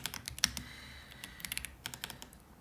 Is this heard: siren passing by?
no